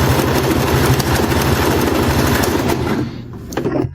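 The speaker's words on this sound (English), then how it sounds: "set the machine to the widest zigzag stitch that is available" Singer sewing machine stitching a wide zigzag, a loud, rapid mechanical chatter running steadily close up before slowing and stopping near the end.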